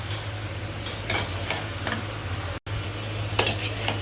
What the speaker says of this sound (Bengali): এইভাবে নেড়ে চেড়ে ভালো মতো সবজিটা দিয়ে কষিয়ে নিতে হবে